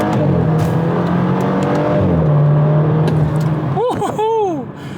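A 2018 BMW 125i pulls hard through the gears from inside the cabin, its engine note climbing loud and steady with a shift midway, then a voice whoops over the fading drone near the end.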